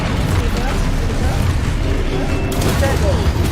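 Spell explosions cast in the game Hogwarts Legacy: a loud, continuous barrage of blasts and crackling impacts, dense and close, with a brighter burst near the end.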